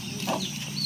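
Kadaknath chickens let out a short cluck on a village farm in the morning, one brief nearby call over a faint background murmur.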